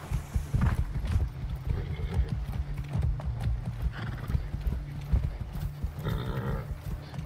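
Horse hooves in Far Cry 6 clip-clop in a quick, steady rhythm close by, with a short whinny, over faint background ambience.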